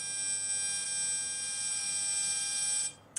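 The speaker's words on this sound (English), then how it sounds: "So this is a Bluetooth," An RF meter's audio output sounds while it measures a Bluetooth device: a steady, loud, high-pitched electronic buzz that holds for about three seconds, then cuts off abruptly.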